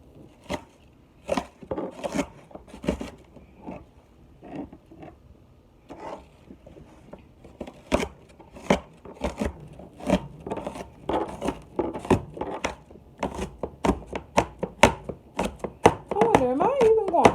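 A knife chops an onion on a cutting board in a home kitchen, sharp irregular knocks that speed into steady rapid strikes, close and clear, with brief talking near the end.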